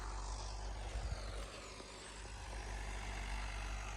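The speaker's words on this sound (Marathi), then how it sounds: "रान जास्त ओलं असल्यामुळं एकदम व्यवस्थित चालतो आहे ट्रॅक्टर" A steady, loud engine drone with heavy low rumble runs throughout from a John Deere 5210 tractor working a wet field with its rotavator churning, no voices heard.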